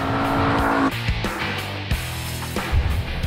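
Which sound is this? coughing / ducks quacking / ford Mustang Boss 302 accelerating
ford Mustang Boss 302 accelerating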